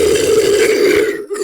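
Creature voice sound effect with a raspy, gravelly growl shaped by a transient shaper plug-in, a single loud close snarl lasting about a second before a brief catch of breath.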